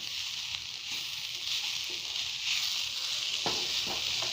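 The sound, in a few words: sautéing momo stuffing with spring onions in a pan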